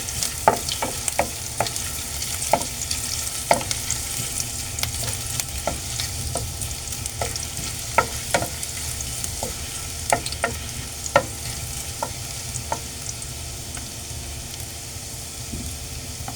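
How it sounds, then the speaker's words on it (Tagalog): Ginger sautéing in hot oil for sweet and sour tilapia, a steady close sizzle with sharp scraping and stirring clicks scattered throughout, no voices. "igisa na po natin siya. Unahin po natin yung ating luya."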